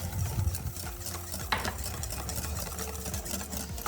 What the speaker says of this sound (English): steady stream and keeping it whisking the entire time